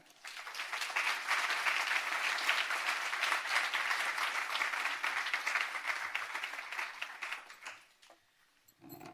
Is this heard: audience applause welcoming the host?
yes